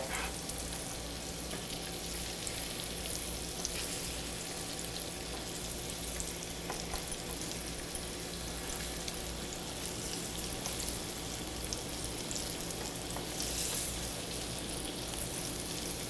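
Tomato slices frying in a pan for a BLT, giving a steady, dense sizzle with faint crackles that runs unbroken and fairly quiet throughout.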